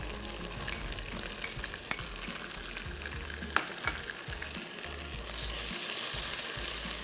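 Garlic-ginger paste and green chili paste sizzle and fry steadily in a hot pan, with a few light clinks of a spoon stirring through the continuous crackle.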